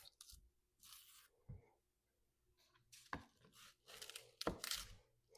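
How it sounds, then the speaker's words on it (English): A knife cuts an onion in half on a board: a few quiet, crisp crunches and soft thuds separated by short pauses. "So for the onion, I'm just going to cut this in half."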